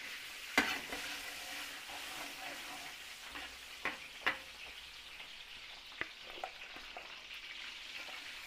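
Garlic sautéing in a pan for Filipino party cooking, a soft continuous sizzle broken by several sharp spatula clanks and scrapes against the pan, close but fairly quiet, with no speech.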